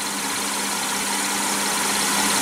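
A 2015 Cadillac CTS with a 3.6-liter V6 idles with a loud, steady, close engine drone and an even low rumble throughout, no other sounds.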